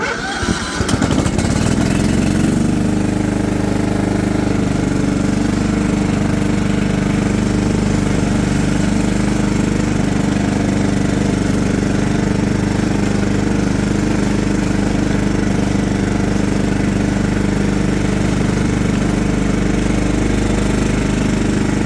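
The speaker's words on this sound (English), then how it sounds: "Alright, let's go mow this thing, see what happens." A John Deere LT150 riding lawn mower with a 15 HP Kohler engine starts up and then runs steadily at a loud, even drone, heard close by with no speech.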